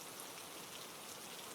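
Steady rain falls at night in an even, continuous hiss of drops on surfaces, faint and distant-sounding, with no voices or other sounds.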